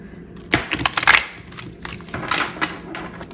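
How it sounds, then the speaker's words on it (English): Tarot cards are shuffled by hand with brisk riffling and tapping, a cluster of sharp card slaps in the first second followed by softer shuffling rustles, close and alone. "I'll give these another shuffle."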